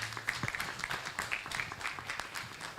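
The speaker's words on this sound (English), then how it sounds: "Another round of applause to her." Faint applause from the audience at a Kenyan media awards ceremony, quiet, steady clapping heard from a distance in a large room, with a few sharper claps standing out.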